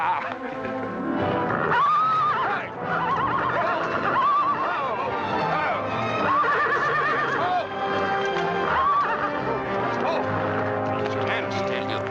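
A horse neighs repeatedly in the 1940 film Santa Fe Trail, several drawn-out whinnies rising and falling over a continuous, busy background.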